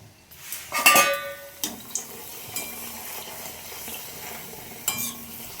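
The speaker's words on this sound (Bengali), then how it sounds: "আগে ফুচকাটা ভেজে নিই" Fuchka puris fry and puff up in hot oil in a pan, a soft sizzle running beneath sharp clinks and clatters of a utensil against the cookware.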